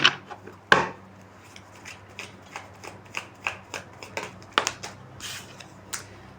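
Tarot cards are shuffled repeatedly, giving a steady run of crisp riffling bursts, close and fairly loud, with no talking.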